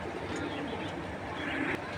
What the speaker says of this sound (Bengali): একটা সিলভার হুমা কবুতর।